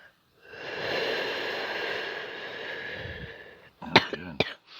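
A long, breathy exhale is followed by a few short, harsh coughs close to the mic.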